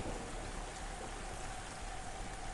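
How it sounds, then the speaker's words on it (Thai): Dense, steady storm downpour in the video game Into The Dead 2, hissing evenly throughout, a constant wash of heavy rain with no pauses. "โอ้ ฝน ตกหนักมากเลยอ่ะ"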